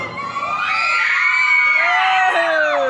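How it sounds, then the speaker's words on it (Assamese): A crowd at a Bihu program in Jorhat shouts, screams and cheers loudly and continuously, a dense wall of close, high-pitched voices with rising yells swelling throughout. "অলপ ডাঙৰকৈ লাগিব চিঞৰটো"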